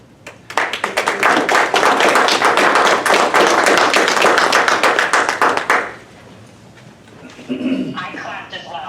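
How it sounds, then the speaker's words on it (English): Dense, loud applause breaks out at an Alcester city council meeting as an award is presented, many hands clapping steadily for about five seconds before fading into low room noise and a voice. "I clapped as well"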